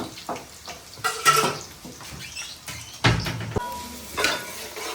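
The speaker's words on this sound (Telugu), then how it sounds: "ఆయిల్ హీట్ ఎక్కిందండి ఉల్లిపాయలు పచ్చిమిర్చి అయితే వేసుకున్నా" Onions and green chilies frying in hot oil for a chicken curry, with a soft steady sizzle broken by several louder bursts of stirring and the clink of a utensil against the pan.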